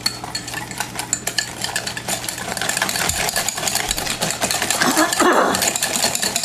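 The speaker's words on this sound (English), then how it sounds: "Once all 3 eggs are in there, it beats in quite nicely." Three eggs are beaten into a stiff Christmas trifle mixture with a spoon, making continuous close scraping and sloshing strokes that grow slightly louder and wetter as the batter loosens.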